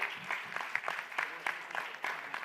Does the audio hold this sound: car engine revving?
no